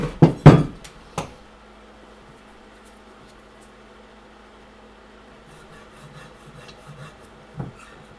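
A scribe or marker scrapes a few quick, rasping strokes across a metal plate, loud and close at first, then a long quiet stretch with faint rubbing and one more scrape near the end.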